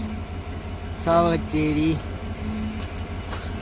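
A passenger train on the Colombo to Jaffna line pulls into Chavakachcheri railway station in Sri Lanka, sounding a loud two-part horn over a steady rumbling rail hum, while someone speaks nearby.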